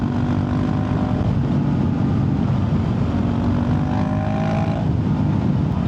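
A Honda CRF450RL dirt bike with a stage 2 tune holds a continuous, loud, close engine drone with slight pitch wavers and a steady throbbing beat, with no talking.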